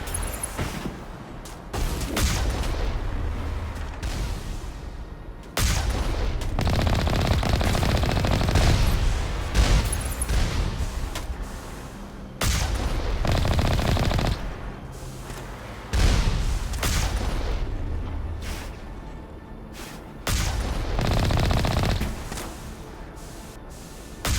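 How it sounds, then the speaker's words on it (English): Sustained automatic gunfire in Mass Effect Legendary Edition, long loud bursts of rapid shots broken by short pauses, repeating throughout with no talk over them. "It's shooting over their head, man."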